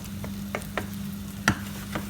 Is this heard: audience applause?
no